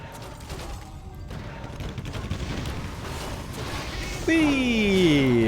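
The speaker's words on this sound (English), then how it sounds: "Breath of Fire looking glorious" Breath of Fire spell cast in a Warcraft III match, a rough crackling burst with scattered impacts, then bright descending magical tones swelling louder near the end.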